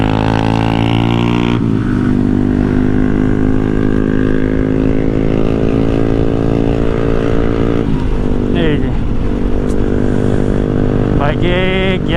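A motorcycle ridden along a hilly road between Kaptai and Chittagong gives a steady, close engine drone with several shifts in pitch as gears change, and the sound stays loud throughout.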